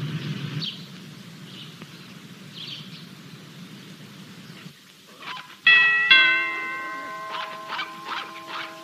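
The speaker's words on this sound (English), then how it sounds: "I'm sorry to just ring your bell like this" A doorbell chimes at a house door in a 1980s television drama, ringing out loudly with bright bell tones that fade slowly, following a quiet stretch with faint background sounds.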